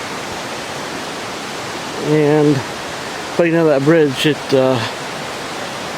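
Rushing water from a waterfall along the Glade Creek trail, a steady broadband roar filling the whole clip, with someone talking over it.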